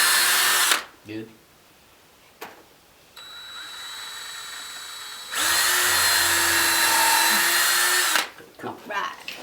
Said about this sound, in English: get the drill going